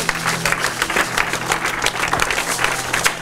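A church congregation applauds, dense continuous clapping from many hands filling the room at steady loudness, with faint voices mixed in.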